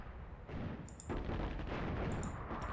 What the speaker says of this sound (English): Where's our artillery? You shell them,